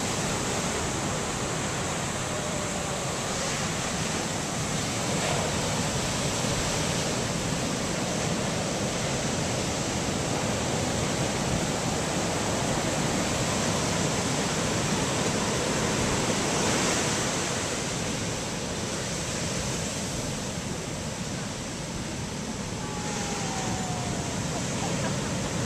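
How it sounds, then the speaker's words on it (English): Big ocean waves breaking on a beach, a broad, continuous surf roar that swells and eases slowly, loud and sustained with no clear individual crashes. "We're here out on the beach. It's beautiful, huh? Big waves coming in."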